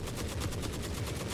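Rapid shotgun fire in the video game Forever Winter, a dense, continuous volley of loud blasts in close succession with no speech.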